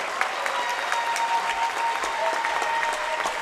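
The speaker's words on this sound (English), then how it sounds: "let's have a big round of applause for the seniors at Upper Sandusky and Buckeye Central" Steady applause from a large crowd at a girls' high school basketball game, loud and sustained, with a faint tone humming underneath.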